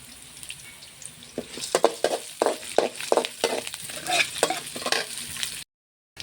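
Urad dal and onion frying in a pan, with a soft steady sizzle and a series of scraping stir strokes that come in a loose rhythm, close by and moderately loud, then a brief drop to silence near the end.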